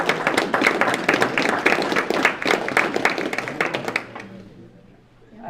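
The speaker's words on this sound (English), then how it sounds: "Might want to hold your applause." An audience at a school district board meeting claps in a dense burst of applause that lasts about four seconds, then fades away into near silence.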